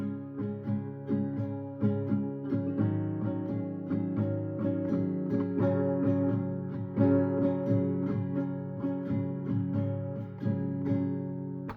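An acoustic guitar strums steady chords in a rhythmic pattern, the strokes falling evenly and ringing together, played alone and close.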